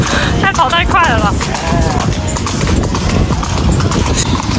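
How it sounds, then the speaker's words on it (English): Horse hooves clip-clop steadily on the road as a horse-drawn carriage moves through Egypt, with someone talking over the close, rhythmic beat. "This is my horse. I have to look after my horse."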